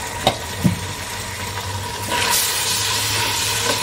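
Onion frying with ginger garlic paste for biryani rice in a pan, a soft close sizzle broken by a couple of taps early on, then a louder, steadier hiss as the paste goes in.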